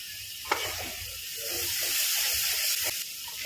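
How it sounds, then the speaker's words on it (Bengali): Ginger paste and chili paste frying in a pan give off a continuous sizzle that swells slightly, with a couple of sharp clicks of stirring. "মশলাটা ভেজে নেব"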